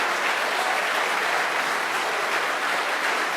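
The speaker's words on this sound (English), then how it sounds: "There'll be plenty of time for applause later." A crowd at a Labour Party leadership hustings between Jeremy Corbyn and Owen Smith claps in a sustained, even burst of applause lasting a few seconds, dense and moderately loud, with no voices over it.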